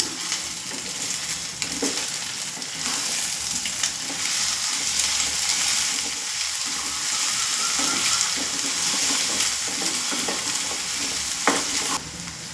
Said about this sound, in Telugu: ఇప్పుడు దీన్ని మిక్స్ చేసేస్తున్నాను